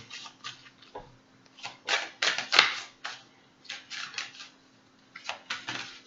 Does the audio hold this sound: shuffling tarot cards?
yes